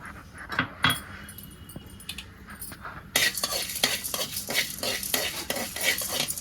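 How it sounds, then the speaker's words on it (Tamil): Coriander seeds and dried red chilies dry-roasted in a hot pan without oil, scraped and stirred with a ladle, quiet clinks at first, then a louder, denser rattling scrape with repeated stirring strokes, close and alone. "இப்போ நம்ம இந்த வெதமல்லி வரமிளகாய் எல்லாம் எடுத்து வச்சுருக்கோம்ல, இதை போட்டு வறுத்து வச்சுக்கலாம்"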